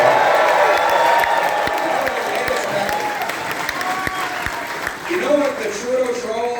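A large crowd at an Axe the Tax rally with Pierre Poilievre applauds and cheers, dense clapping with scattered whoops and shouting voices filling the space, moderately loud and sustained.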